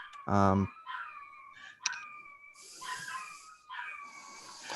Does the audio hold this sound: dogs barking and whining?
yes